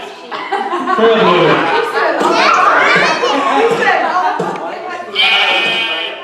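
Sheep bleat in repeated wavering cries over steady chatter from children in a classroom music lesson, with a louder burst of bleating near the end.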